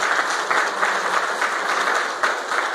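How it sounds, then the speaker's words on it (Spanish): Steady audience applause after a community oral-tradition presentation about San Juan de Dios arriving in Tultepec, a continuous patter of many hands with small swells. "pues un aplauso"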